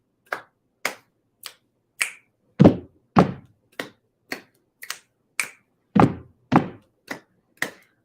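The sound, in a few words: rhythmic body percussion: patting, clapping, finger snapping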